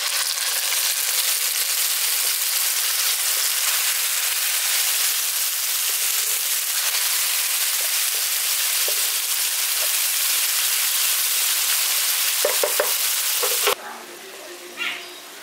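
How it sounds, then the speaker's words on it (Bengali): Onion and tomato paste fry and sizzle loudly and steadily in a pan for a Khoyra fish bhapa dish, with a few clinks of stirring near the end before the sizzle drops away. "এখানে টমেটোটা আর পেঁয়াজটা ভালো মতো কষিয়ে নিয়েছি।"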